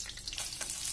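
Steady, close crackling sizzle of garlic frying in butter and oil in a pan, continuous and bright without pause.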